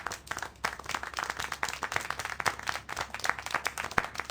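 A crowd claps in fast, irregular applause in the video game Syberia: The World Before, staying steady at moderate volume throughout, with no voices over it.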